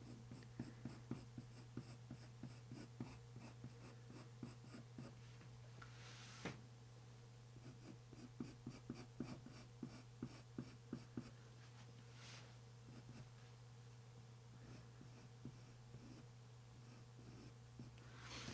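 A dark sepia colored pencil sketching fine strands on paper, heard as quiet, close scratchy strokes in rapid rhythmic bursts with brief pauses between, alone without talk.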